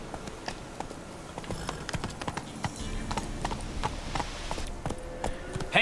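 Steady clip-clop of horse hooves trotting over ground in The Witcher 3: Wild Hunt, continuous and fairly close, with faint outdoor ambience behind it.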